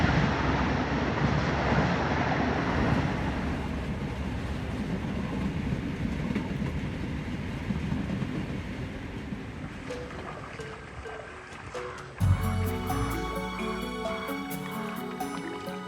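A long cargo train rumbles steadily across a railway bridge over a deep ravine, a continuous loud rolling roar with rattling wheels, followed near the end by a sharp bang and a bright ringing metallic clatter.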